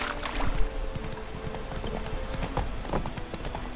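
Horse hooves clip-clopping at a quick, steady pace in The Witcher 3, a continuous close rhythm over a soft game ambience.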